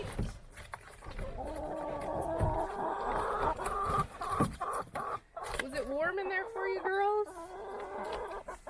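Chickens clucking inside a coop on a frozen winter morning, a run of bright, rising clucks and squawks near the end, heard close under someone talking to the hens.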